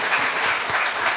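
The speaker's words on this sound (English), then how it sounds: "you can clap for it" Audience applause at a meeting, a short burst of dense, steady clapping from a crowd, fairly close and loud, with no talking over it.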